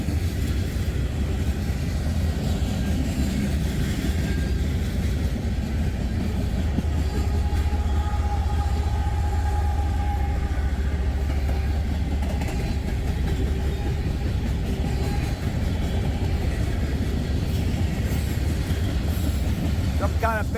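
CSX freight cars, including molten sulfur tank cars, roll past in a loud, steady low rumble with faint wheel squeal, continuous and close throughout.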